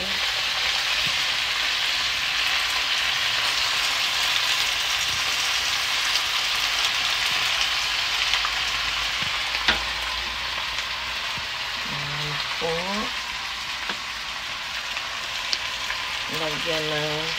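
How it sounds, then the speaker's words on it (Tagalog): Garlic, onion and alugbati leaves sauté in a pan, producing a steady, loud, rain-like sizzle close up, with occasional utensil clinks and brief voice sounds in the background. "nagigisa ako ng bawang, sibuyas, kasaki, tapos alogbate"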